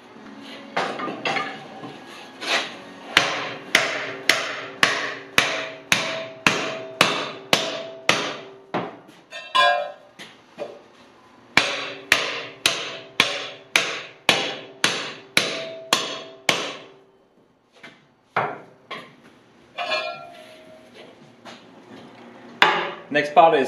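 A hammer strikes steel plate being bent to a 30-degree angle for a hydraulic angle snowplow, loud close metallic blows in fast regular runs with short pauses between series.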